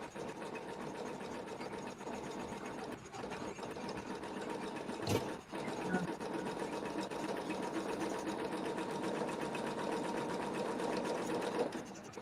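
An embroidery sewing machine stitches fabric with a rapid, steady mechanical chatter and whirr, continuous and close, broken only by a brief thump partway through.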